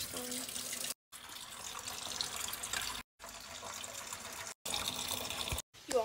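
Tap water runs into a kitchen sink while dishes are washed, a steady rushing splash that cuts off briefly three times before starting again.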